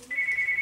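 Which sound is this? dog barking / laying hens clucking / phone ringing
phone ringing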